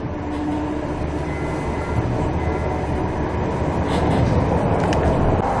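A TriMet MAX light rail train runs alongside Highway 99 East (McLaughlin Boulevard), giving a steady, close rumble of wheels and motors with faint rail squeal and no speech.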